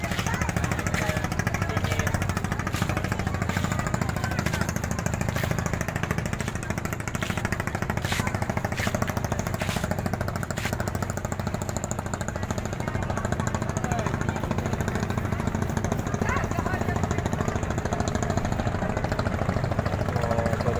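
Boat engines chug steadily at Tanjung Tiram harbour on a busy late afternoon, a continuous loud low rumble with rattling, knocking bursts over crowd noise, and faint voices now and then.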